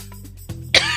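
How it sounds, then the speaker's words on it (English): A person gives a single close, loud cough that follows a short throat-clearing rasp, with no talking. "I'm going to cough."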